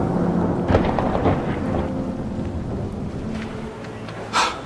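Thunder rumbles heavily over the start of a rainstorm, and the rain hisses steadily underneath. A sharper crack stands out near the end, with no voices.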